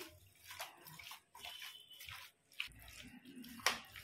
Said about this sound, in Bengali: ভালোভাবে মাখানো হয়ে গেছে, একটু জল দিয়ে দিলাম